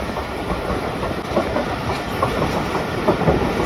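Pakistani express train hauled by a ZCU 30 locomotive rolls past close by, loud steady rumble with rhythmic clickety-clack of wheels over rail joints throughout, no talk.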